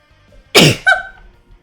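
A single loud, close sneeze bursts out sharply, followed by a brief voiced tail, with near silence around it.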